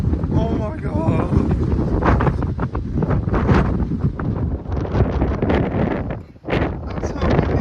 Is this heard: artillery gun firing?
no